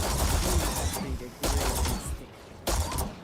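Gunshots in the video game Starfield fired at a kid groat, three loud sharp bursts spaced about a second apart, each ringing out briefly over a low background.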